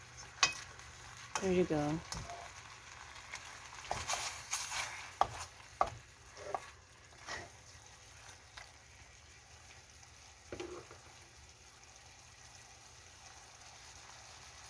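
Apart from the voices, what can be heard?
stirring chicken stew (dakdoritang) in a pot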